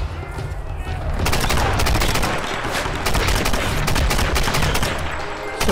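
A dense burst of rapid gunfire-like cracks and rumbling blasts, loud and continuous, from an explosion in Tomb Raider (2013).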